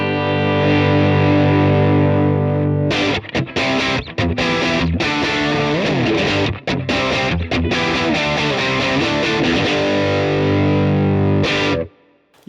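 Electric guitar through an Origin Effects RevivalDRIVE pedal with the gain turned up: a long sustained distorted chord rings out, then choppy, aggressive strummed riffs follow, loud and close, ending in a brief cut to silence.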